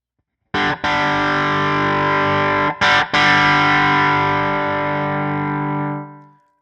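Electric guitar run through a Tone City Double Durple pedal with its tone knob turned up past noon, a single distorted chord struck, briefly choked and restruck, then left to sustain loudly before fading out, bright and thick with no voice.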